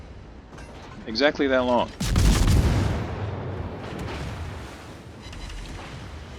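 Naval guns fire shells in a World of Warships battle, a broadband boom burst landing around two seconds in and rolling off over the next second, with someone speaking briefly over it.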